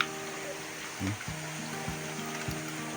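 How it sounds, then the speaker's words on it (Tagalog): Typhoon floodwater pours down from above toward a house in a continuous rushing wash, with a few soft knocks and a brief louder surge partway through. "paiwasin yung tubig mga idol kasi ang lakas oh,"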